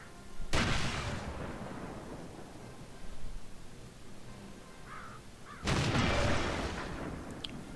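A tank cannon in World of Tanks fires with a heavy, reverberant boom, then a quieter rumble carries on. A second loud blast follows several seconds later.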